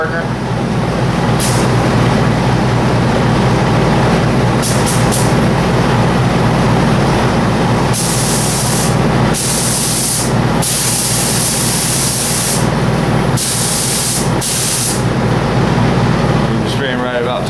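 A spray gun lays AG40 clear coat with fast hardener onto a Mustang hood at about 27 pounds of pressure, its loud hissing bursts starting and stopping repeatedly over a constant background roar.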